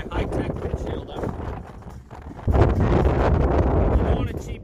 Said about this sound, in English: Life of Barney, super windy edition.